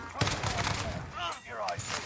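Gunfire in Call of Duty: Warzone, a sharp shot near the start followed by a scattered burst of rapid fire and game effects, loud and close over a busy background.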